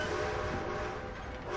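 A train rolls across a bridge in the Red Dead Redemption 2 video game, a dense, steady rumble of wheels and carriages that holds loud and unbroken throughout, with no voices over it.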